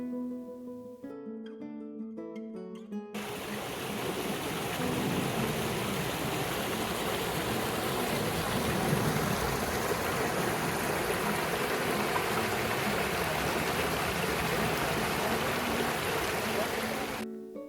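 The Eresma river rushes over rocks in a loud, steady broadband wash that lasts about fourteen seconds, coming in right after a short stretch of tonal music.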